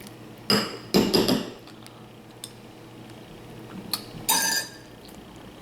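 A utensil clinks and scrapes against a bowl in a few short bursts, with quieter pauses between the stirring strokes.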